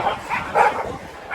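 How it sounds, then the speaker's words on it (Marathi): Dogs barking, yipping and whining in a scuffle outdoors near Kankeshwar temple in Alibag, a short burst of several overlapping yelps at moderate distance. "कुत्र्यांची उभ्या आणि भांडणं चालू आहेत."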